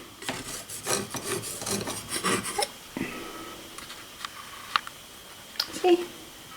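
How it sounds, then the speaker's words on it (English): Palette knife scraping leftover acrylic paint across canvas in a rocky beach seascape painting, a soft rasping rub in short strokes, close and fairly quiet, with faint sniffs and small sounds around it. "So I'm just scraping on what I got left over."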